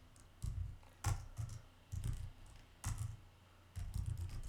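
Bursts of typing on a computer keyboard while entering a record in a React and Django web app, quick clattering keystrokes in short runs separated by pauses, close and fairly quiet with no talking.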